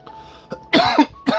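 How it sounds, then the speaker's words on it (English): Three sharp coughs from one person nearby, the last two loud and close together after a softer first, in a quiet late-night room. "There's that unrelated cough."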